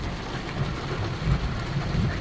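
Heavy rain pours at a hilltop viewpoint in Chanthaburi, Thailand, a dense, steady roar of broadband noise with low rumbling gusts, close and loud, with no voices.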